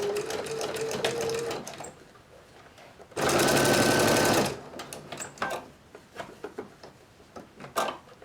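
A sewing machine stitches a small plush shirt sleeve in short bursts of rapid mechanical whirring, loudest in a sustained run midway, with rustling fabric and light handling clicks between the bursts.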